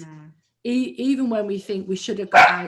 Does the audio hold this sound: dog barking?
yes